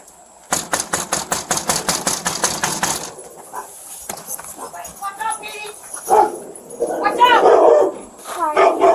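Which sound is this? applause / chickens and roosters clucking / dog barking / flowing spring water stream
dog barking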